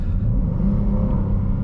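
A 2021 Chrysler 300S sedan with a V6 engine accelerating, heard as a deep, steady low rumble from inside the car, loud and continuous with no talk.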